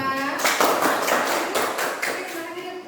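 Students in a classroom clap together, a loud, close burst of rhythmic hand claps with overlapping voices that fades slightly toward the end.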